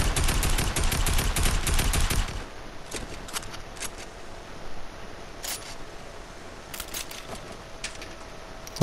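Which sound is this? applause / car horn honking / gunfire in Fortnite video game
gunfire in Fortnite video game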